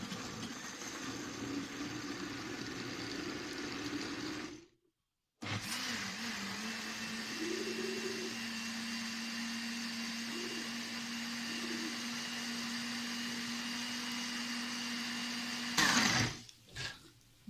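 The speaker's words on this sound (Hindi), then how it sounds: "इसको अब हम ग्राइंड करेंगे।" A blender grinding apricot and tamarind chutney with cumin, a loud steady whir that cuts out for a moment, then restarts and holds its pitch before stopping with some rattling at the end.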